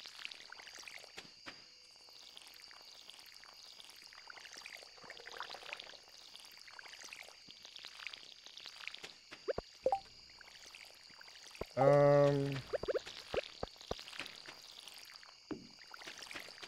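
Watering crops with a watering can in a farming video game, soft trickling pours among crickets, insect chirps and frog-like ambience, with a short louder splash near the end and no talking.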